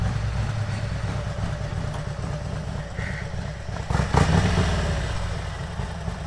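A Harley-Davidson motorcycle engine runs nearby with a steady rumbling idle that swells briefly midway, under constant road and wind noise.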